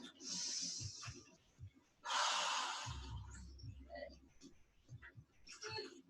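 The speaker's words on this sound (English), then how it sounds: "One more yawn." Yoga session yawn: two long breathy exhalations, close and soft, separated by quieter breathing and small mouth sounds, with a faint low voice murmuring underneath.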